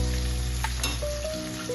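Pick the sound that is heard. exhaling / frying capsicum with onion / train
frying capsicum with onion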